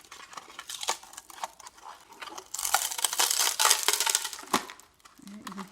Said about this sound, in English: you're going to want to burst your balloon